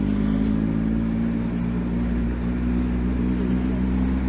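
Triumph Speed Triple RS motorcycle ridden slowly through town, its engine a steady close low drone with wind rush, under a rider's talking.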